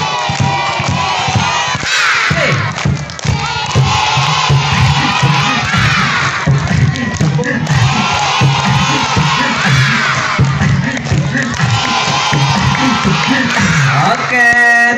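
A crowd of schoolchildren at a storytelling event shouts and cheers loudly in unison, with dense overlapping voices and rhythmic bursts that may carry clapping, continuous and close throughout.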